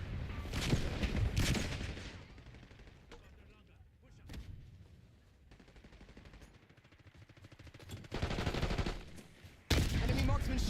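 Bursts of rifle fire from an enemy marksman crack across a Black Ops 6 match on Nuketown, loud at the start and end with quieter distant shots and game voice callouts in between.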